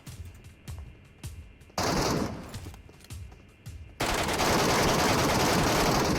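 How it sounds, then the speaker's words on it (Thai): Rapid AK rifle bursts in the video game Metro Royale ring out in quick succession, loud and close, then give way to a sustained roar of noise. "โอ้โหยิงไม่โดน มาแล้วเอเค สามนัด มัน ไม่ตาย"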